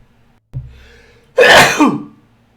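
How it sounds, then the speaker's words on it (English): A single loud, close sneeze: a short breathy intake followed by a sharp explosive burst that trails off, alone against near silence. "Sneezed out of nowhere."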